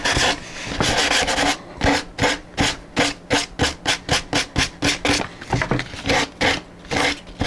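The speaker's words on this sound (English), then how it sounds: "You just sand it level." Fiberglass sanded level along the edge of a model airplane wing, in loud, close, rhythmic back-and-forth rasping strokes that speed into a quick regular pattern.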